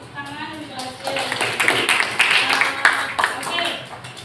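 After a brief voice, a small group in a classroom breaks into clapping that continues for a few seconds.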